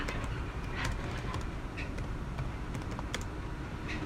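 Typing on a computer keyboard with an English layout, a steady run of light, quick clicky keystrokes at close range over a constant low background hum.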